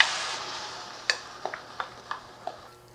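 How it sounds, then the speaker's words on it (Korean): Bulgogi beef stir-frying in a wok, a soft steady sizzle with a handful of sharp ticks and clinks of the utensil against the pan, close and fairly quiet with no talking. "소 불고기를 볶아보도록 할게요"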